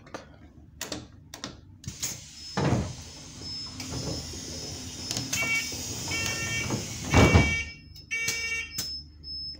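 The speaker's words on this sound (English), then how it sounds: "want to see what happens if I close the rear doors early" Rear doors of an AL ENX28 bus closing, with a pneumatic hiss, a door-warning beeper sounding in repeated tones, and several loud thumps as the doors move and shut, all close by.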